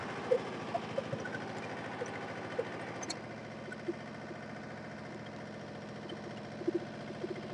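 A Boraste Aditi ECO600 Foglia-1 blower sprayer runs on a tractor set near 1500 rpm, giving a steady droning mechanical hum with a faint rattle, constant and moderately close, with a few small clicks and knocks.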